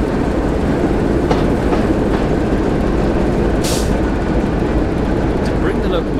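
Locomotive in the Train Sim World video game rolling along with a steady loud rumble and track noise, occasional faint clicks and a brief hiss of air partway through.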